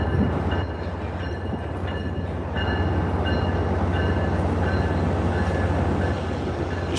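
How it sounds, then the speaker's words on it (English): A train rumbles past at South Station in Boston, a steady loud low roar with faint metallic squeals and clicks on top, continuous throughout with no pauses. "This train came all the way from Washington,"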